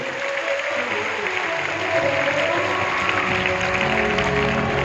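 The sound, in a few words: audience clapping applause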